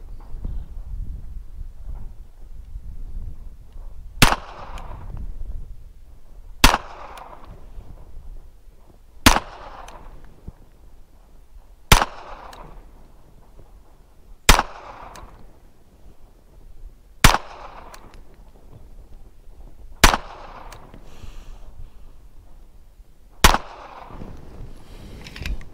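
Eight sharp, loud shots from a Smith and Wesson .45 ACP pistol, evenly spaced every few seconds with quiet gaps between each report.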